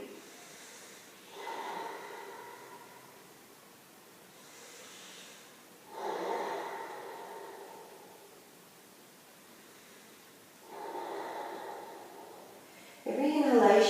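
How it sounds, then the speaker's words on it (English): Slow, deep breaths during a beginner yoga flow, three long airy exhalations spaced several seconds apart in a quiet room, with a louder breath starting at the very end. "Breathing deeply and feeling the breath moving through your body."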